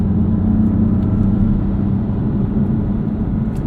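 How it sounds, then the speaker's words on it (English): Engine of a 2016 BMW M3 sedan heard from inside, a steady low droning rumble with a faint turbo whir above it, constant and fairly loud throughout with no voices. "It makes turbo noises, which are always a pleasant experience."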